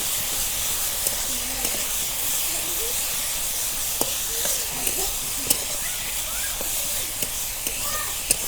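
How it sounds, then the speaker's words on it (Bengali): Fish stirred in a hot pan with turmeric, chili powder, salt and ground coriander, giving a steady loud sizzle and hiss broken by occasional light clicks of the spoon. "হলুদ, মরিচের গুঁড়া, লবণ, ধনিয়ার গুঁড়া, ভালো করে নাড়াচাড়া করি।"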